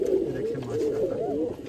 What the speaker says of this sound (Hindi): ये उड़ने वाले कबूतर हैं माशाल्लाह, उड़ार के बादशाह कबूतर माशाल्लाह